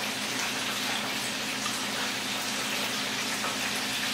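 Buttermilk and oil poured into a mixing bowl for waffle batter, a continuous liquid gush and splash, fairly close and steady throughout with no speech.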